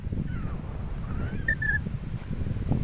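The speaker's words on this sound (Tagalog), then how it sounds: "Napakalakas ng hangin mga katons." Strong seaside wind buffets the microphone with a continuous low rumble and gusty roar, while a few faint bird calls come through in the background.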